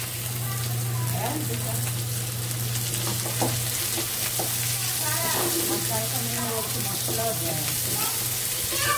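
Garlic, green chilies and onion fry in a pan with a continuous close sizzle like steady rain, while people talk over it and a low hum runs underneath.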